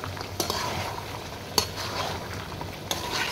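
Beef frying in oil with spices, a constant close sizzle with a few sharp spoon scrapes and clicks as it is stirred, moderately quiet and without voices.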